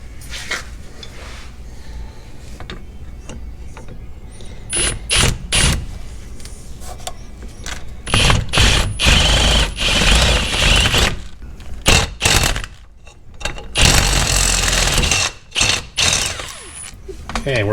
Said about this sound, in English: I have a full-size actual 5/8 drill bit, which is probably a little bit overkill for this.